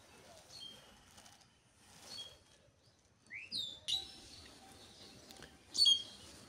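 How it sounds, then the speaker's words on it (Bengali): Birds chirping in a village in the early morning, faint scattered tweets and calls with a couple of brighter, louder chirps and a possible wing flutter, quiet background otherwise. "পাখি সব করে রব, পাখিরা কিচিরমিচির করতেছে।"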